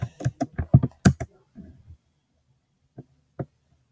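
Keys clatter on a Chromebook keyboard in a quick close burst of clicks for about two seconds, then a pause broken by two isolated taps.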